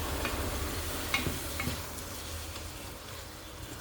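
Chopped onions and minced meat fry for a bolognese sauce, a steady close sizzle with a few scraping stirs and clinks early on, settling into an even hiss without any talking.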